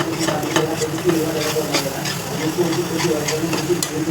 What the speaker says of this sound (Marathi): वेलची पावडर टाकल्यावरती आपल्याला चांगलं हलवून घ्यायचं, जेणेकरून हे खाली लागू नये म्हणून.